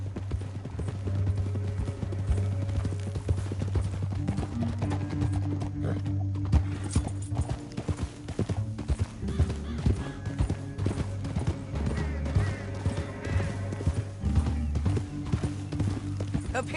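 Horses clip-clopping in Red Dead Redemption 2, continuous hoofbeats at a steady trot with a neigh or whinny, heard over low rumbling ambience and music for the whole stretch.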